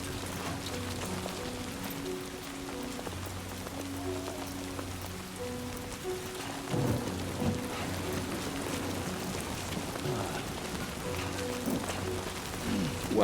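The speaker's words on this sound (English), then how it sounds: "The rain sounds are great though." Rain in the video game Death Stranding 2, a steady, even wash of falling drops on surfaces that holds close and constant throughout, with tonal game music and a few heavier bumps layered over it.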